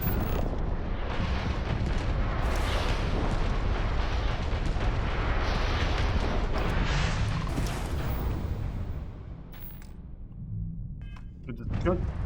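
Dense, continuous rumble of gunfire and blasts from a Starfield firefight, loud and sustained for most of the stretch before thinning out near the end, with someone talking over the action.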